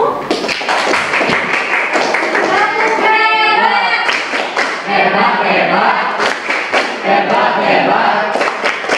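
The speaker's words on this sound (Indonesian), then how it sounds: "Nanti tepuk tangan dulu untuk kelompok satu." A classroom group claps for presentation group one, with loose uneven hand claps, thumps and taps mixed with a burst of shouting and chatter from the students.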